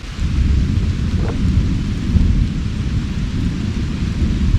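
Thunder rolls through a sudden rainstorm heard from a shelter outdoors, a deep sustained rumble beneath a steady wash of rain.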